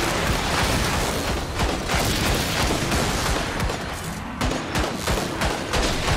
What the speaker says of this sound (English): I'm gonna just sit here and shoot this guy to death.